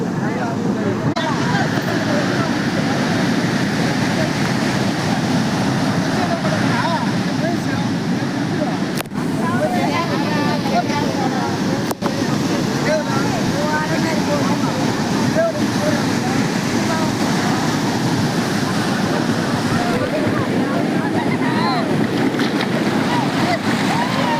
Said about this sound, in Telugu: కోణార్క్ బీచ్